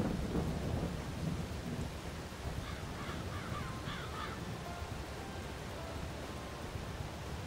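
Steady rain hisses with a low rumble of thunder underneath, and a few faint crow caws break through in the middle.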